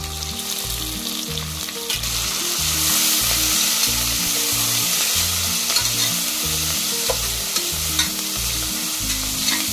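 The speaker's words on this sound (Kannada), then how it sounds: "ಸೊಪ್ಪಿನ ಹಸಿ ವಾಸನೆ ಹೋಗೋ ತನಕ ಚೆನ್ನಾಗಿ ಹುರಿರಿ." Chopped leafy greens and onion fry steadily in hot oil, with a continuous loud sizzle and a regular, rhythmic scraping of a spoon stirring them through the pan.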